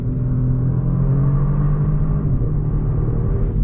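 A Genesis G70 3.3T AWD sedan's engine rumbles and revs with a muffled, breathy exhaust note, low droning steadily with a slight rise, close by and without speech.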